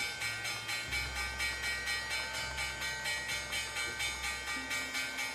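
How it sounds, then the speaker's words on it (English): The NYSE opening bell rings in a fast, steady metallic clang, repeating evenly and continuously for several seconds at moderate distance. "There's the opening bell in case you did wonder what that noise was."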